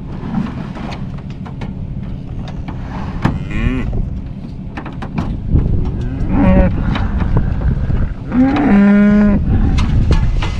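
Cattle moo in a field, several long drawn-out calls rising over steady wind and a low vehicle rumble, the loudest bellow close by near the end.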